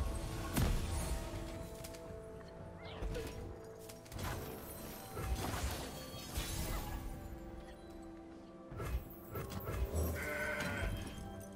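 Goat bleats from a card effect in the Legends of Runeterra game ring out several times, mixed with shattering, sparkly effect sounds and layered game music, at moderate volume.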